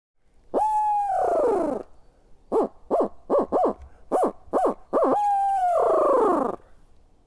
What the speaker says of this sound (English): with that barred owl call just before sunrise, our turkey scouting trip is underway